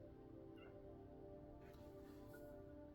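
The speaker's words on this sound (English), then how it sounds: "here she go meowing, and I just tried to let her in" Faint, drawn-out meowing of a cat wanting attention at a door, a single tonal, wavering cry lasting a few seconds, quiet and slightly distant.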